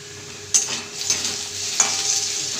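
Black cumin seeds fry with browned potatoes in hot oil: a bright sizzle swells when the spatula stirs, with two or three sharp scrapes and clinks against the pan.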